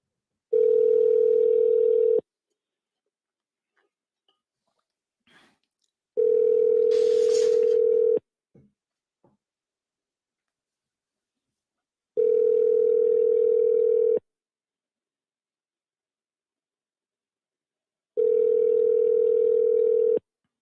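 Telephone ringback tone rings unanswered on an outgoing call, four steady two-second bursts separated by long silent gaps, loud and close with a few faint clicks between.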